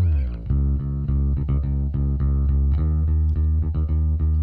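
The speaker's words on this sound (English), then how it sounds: "that distortion, that saturation is really coming through" A bass guitar with saturation distortion from a UAD API Vision channel strip plays a steady run of notes, loud and close, with a thick, gritty tone and no voices.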